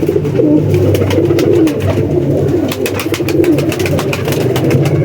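Many Kasuri pigeons keep up a steady close chorus of deep rolling coos, layered and unbroken, with no voices over them.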